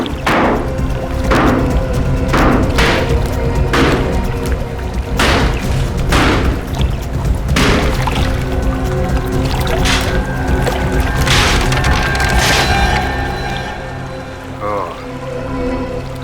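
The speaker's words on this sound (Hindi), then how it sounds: "खोदो, तोड़ दो इसे।" Forceful thumps and booming cracks from breaking open a water tank in a drama scene, loud strikes in an irregular series, with watery pouring and rumbling noise throughout.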